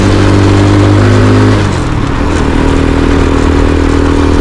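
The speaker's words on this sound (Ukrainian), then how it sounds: "Їде добряче набагато тише, чим той мотор був." A newly fitted small moped engine runs steadily and loudly up close, its pitch shifting slightly partway through as it keeps droning.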